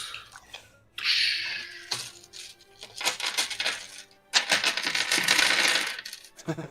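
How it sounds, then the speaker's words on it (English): Dice taken out and rattled during a tabletop game session, giving a loud clattering of many small hard pieces in two bursts with a brief pause between. "Let me take out my dice"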